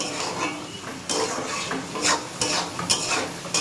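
Meat and shrimp curry sautés in a pan, a close frying sizzle broken by repeated scraping stir strokes and metal utensil knocks against the pan, without speech.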